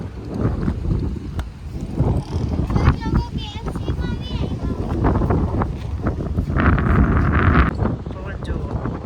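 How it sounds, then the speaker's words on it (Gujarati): Wind rushes past a moving bus on a road trip in Rajasthan, making a continuous buffeting roar up close, with people talking over it. "પવન જુઓ."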